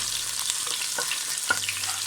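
Half an onion, sliced lengthwise, sizzles in hot oil for a Thalassery-style prawn biriyani, a soft continuous frying hiss with a few small pops and stirring clicks, close and without talk.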